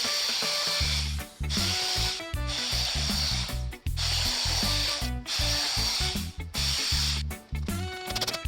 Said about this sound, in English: Now that the holes are drilled, we're cutting out the space where the handles slide into.